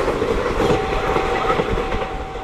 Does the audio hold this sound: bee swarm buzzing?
no